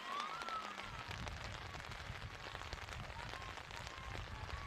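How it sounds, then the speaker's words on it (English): Heavy rain falls steadily on an outdoor youth football game, a dense, even hiss of drops that runs through the whole stretch without a break and with no voices over it. "it's very wet out, raining like crazy"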